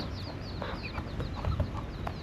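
Chickens cluck and chatter around a farmyard alongside guinea fowl and ducks, a continuous busy flock murmur with a few sharper calls, moderately close, with no speech.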